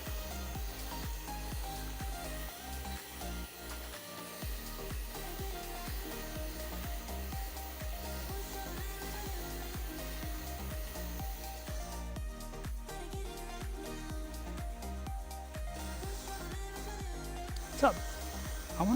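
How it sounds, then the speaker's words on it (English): A handheld hair dryer blows steadily while layered hair is dried after a haircut, giving a continuous airy whoosh that runs the whole time under talking. "Thanks for going through this blow dry with me."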